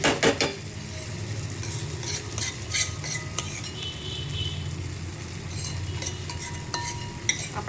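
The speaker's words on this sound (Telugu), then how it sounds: "రోట్లో నూరుకున్నది గోంగూర వేసేద్దాము" Ground gongura leaves stirred in a hot pan, with a soft continuous sizzle and repeated sharp scrapes and clinks of a spoon against the metal pan, close up and fairly quiet.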